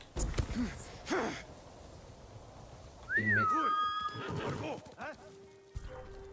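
A horse in a Ghost of Tsushima-style video game neighs loudly in a rising and falling whinny, with hoof clip-clops and snorts nearby, while a player's breathy reactions and game sounds come and go.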